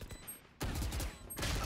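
Automatic gunfire in Valorant comes in two loud, dense bursts of rapid shots. A brief quieter gap separates them.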